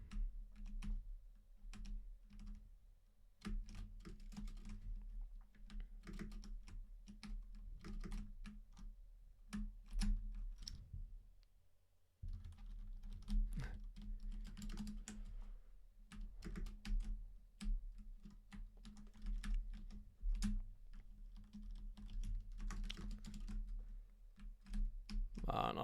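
Rapid clacking on a worn computer keyboard with aging keycaps, typed in quick bursts with a brief pause midway, close and fairly quiet, with faint background sound.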